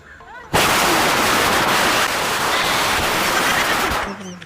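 A money-style firecracker goes off close by in a sudden loud burst, crackling and popping continuously for about three and a half seconds before cutting out, with brief voices just before and after.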